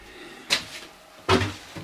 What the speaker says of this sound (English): the elevator door will close.